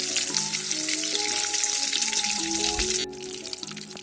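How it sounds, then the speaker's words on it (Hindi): Beef seekh kebabs fry in oil in a karahi with a loud, dense sizzle. The sizzle drops abruptly near the end and continues more quietly, with no speech. "बाकी सारे भी मैं इसी तरह से फ्राई कर लूँगी।"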